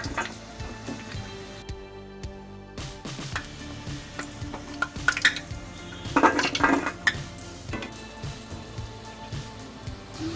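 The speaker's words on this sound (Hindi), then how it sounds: "पकौड़ियों को मीडियम आंच पर सेकना है, जिससे पकौड़ी जले नहीं और अंदर तक सिक जाए।" Pakoras frying in a pan over medium heat, a continuous rain-like sizzle with intermittent clinks and scrapes of a utensil against the pan, fairly close.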